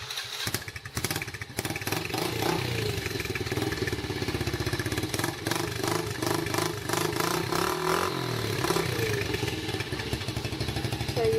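Yamaha TTR90 dirt bike with electric start fired up cold, its small engine catching and then running with a rapid, rough, clattering idle and light revs, heard close with no speech.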